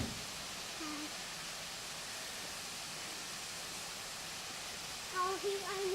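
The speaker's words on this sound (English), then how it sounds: "A little weir." Water flowing over a small weir beside a pond near a manor, a steady broadband rush under rain, with faint bird calls and a brief quack-like call near the end.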